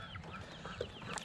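Farm fowl, guineas and turkeys among them, call in a short burst of faint clucks and chirps over a soft outdoor background.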